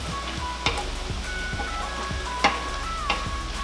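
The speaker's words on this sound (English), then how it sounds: "Just gonna let this simmer more." Albaloo polo, an Iranian sour cherry rice dish, simmers in a pan with a soft, steady sizzle, broken by a few sharp ticks and clinks of utensils against the pan, and no one speaks.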